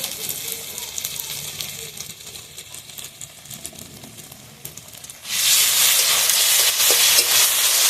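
Ground ginger-garlic paste dropped into a pan with frying tomato for a fish-bone curry, a faint crackle and stirring that swells into a loud, close, steady sizzle partway through.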